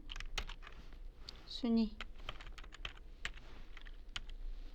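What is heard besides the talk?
typing on a computer keyboard, pressing Alt+Enter in Excel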